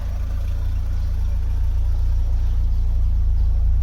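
A Vauxhall Cavalier engine runs at idle with a low, steady throb and a faint repetitive knocking underneath that grows as the oil warms, close and continuous.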